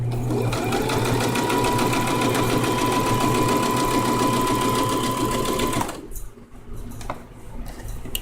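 A sewing machine stitches pencil-skirt fabric in a loud, steady, rapid run for about six seconds, then stops abruptly, leaving a few quieter clicks and handling sounds.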